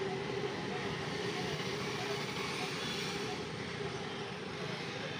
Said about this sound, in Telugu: ఇలా పైకి వస్తే ట్రైన్ వస్తుంది.